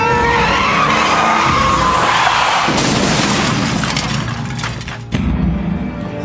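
A car skids around a curve with a loud, sustained tire squeal and roaring engine, then an abrupt crash-like thump near the end, all close and intense with no talking.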